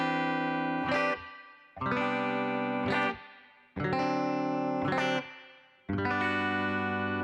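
Electric guitar strums a chord progression in dominant seventh voicings, four ringing chords each struck and left to decay, bright and effected with chorus-like shimmer, no voice over it.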